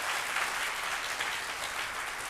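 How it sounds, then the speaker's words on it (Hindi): At a Hindi poetry gathering (kavi sammelan) during a cultural evening, the audience gives a dense, steady burst of applause, heard somewhat distantly and at a soft level throughout. "एक बार जोरदार तालियों से अभिनंदन करें"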